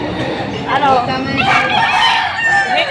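Rooster crowing at a chicken market in Padre Garcia, Batangas, loud and close, with one long crow followed by more crowing and clucking from other fowl amid busy market noise.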